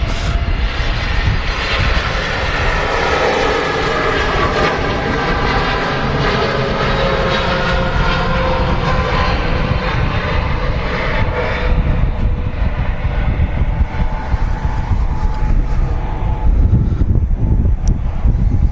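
A Boeing 787-8 Dreamliner at Manchester Airport produces a loud, continuous jet engine roar with a whining tonal edge, gradually easing toward the end, heard alone without talk.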